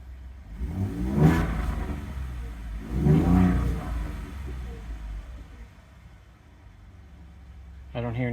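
A Ford F150 EcoBoost pickup fitted with an Injen Powerflow cold air intake revs twice in a row, each rising growl swelling and fading at close range, followed by quieter idle and a brief sharp noise at the end.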